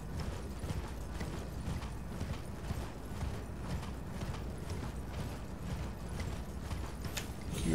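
Horse hooves clop in a steady, rhythmic gallop while riding through Elden Ring, a continuous close patter of hoofbeats with faint mechanical creaks beneath.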